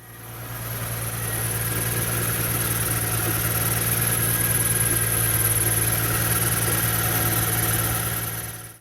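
A running 2008 Infiniti FX35 engine idles steadily with its accessory belts, giving a continuous close hum with a high, sustained squeal-like tone above it, loud and even throughout with no talking.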